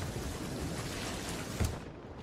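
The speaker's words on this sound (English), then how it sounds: "we just got hit by lightning again" A lightning strike in the pirate video game Sea of Thieves, heard as a brief low thunderous boom over a steady wash of rain and wind, fairly faint and with no talk.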